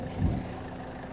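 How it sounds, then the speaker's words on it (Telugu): A 2015 Ford EcoSport Titanium diesel engine idles steadily at low volume, a soft, even rumble with no knocking or revving and no talk over it. "ఇంజన్ అయితే చాలా సైలెంట్ ఉంది ఇంజన్ నాయిస్ వచ్చు చాలా సైలెంట్ ఉంది"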